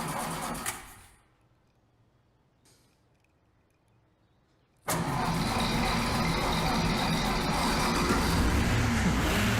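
A car engine cranks and catches abruptly after a near-silent pause, then settles into a loud, steady idle that runs to the end, close to the listener.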